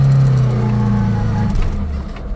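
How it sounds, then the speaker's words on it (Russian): Car with a 1.9-litre, 120 hp engine straining up a very steep climb, a loud low engine drone under light throttle whose pitch sags as the car loses momentum, close and steady. "Не, ну я чуть газую."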